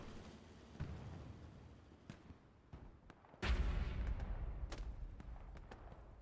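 A Panzer IV tank firing a high-explosive round in Hell Let Loose, one heavy booming blast midway with a rumbling tail, among sparse distant gunshots and cracks in a quiet battlefield.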